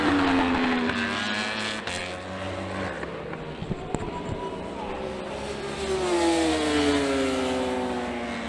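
Ducati and BMW racing motorcycles at a PSBK race on track, loud high-revving engines sweeping past with rising and falling pitch, one fading as another approaches.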